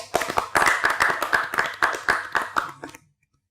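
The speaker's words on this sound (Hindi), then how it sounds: "तालियां बजाएं" A small group claps together for about three seconds, steady and close, then the clapping stops and there is silence.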